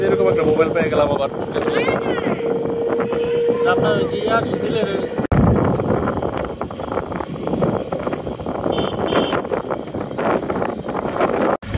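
A boat moving on floodwater near a flooded railway station, with a steady engine or water drone under wind buffeting on the microphone and people talking throughout.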